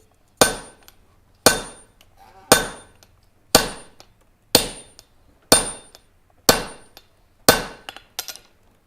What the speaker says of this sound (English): I'm just using the set hammer to be more controlled.